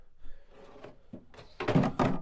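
Plastic tank being unclipped and lifted off a Milwaukee M18 switch tank battery sprayer, giving a soft knock followed by two louder close clunks and rattles near the end.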